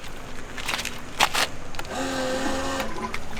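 An electric valve on an RV black tank opening at a Yellowstone campsite, with a short click followed by a steady mechanical whir and hum that runs to the end, close and moderately loud.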